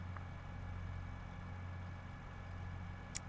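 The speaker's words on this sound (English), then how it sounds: "This tractor mod is from Sid Modding. It just sounds really good." A modded tractor engine in Farming Simulator idles steadily with a low, even rumble, holding constant throughout with a brief sharp click near the end.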